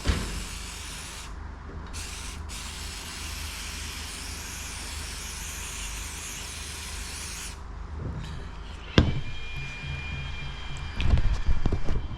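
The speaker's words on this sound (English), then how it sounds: "Spray it in all the holes." CRC lubricant sprayed from an aerosol can into the holes of a car wheel, a steady close hiss that runs for several seconds, pauses, and is followed by a few clanks of handling.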